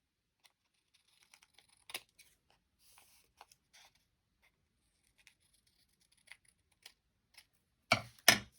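Scissors trimming paper for a handmade hidden-pocket envelope, a few faint scattered snips and small rustles in a quiet room, with a louder cluster of cuts right at the end.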